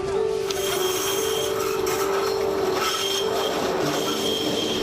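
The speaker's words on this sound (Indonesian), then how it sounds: "Suara sirene palang kereta berbunyi, tanda kereta akan melintas." Train rolling slowly through a trackside market in Surabaya, loud and close, with a steady high wheel squeal over continuous rumbling and faint clatter.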